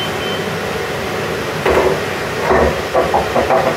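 A pot holding jars of beetroot boils on the stove, a steady close hiss of steam with bubbling and occasional knocks of jars.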